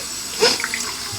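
Cold water gushes briefly from a bathroom tap with its handle turned all the way to cold, a close, short splash that swells and fades within about a second.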